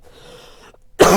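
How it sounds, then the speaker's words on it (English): A single sharp, close cough bursts out suddenly at the end after a quiet stretch of faint room tone. "I hate this cough, I'm sorry."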